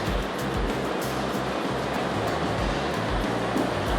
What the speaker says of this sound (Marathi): आता आमच्याकडे जोरात पाऊस चालू आहे, एकदम जोरात